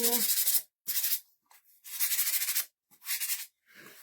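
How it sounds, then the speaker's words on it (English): Close, rasping strokes of sandpaper rubbing over a small wooden spindle pumpkin craft piece, four or five brisk passes separated by short pauses. "Just sanding them off a little bit before we start painting."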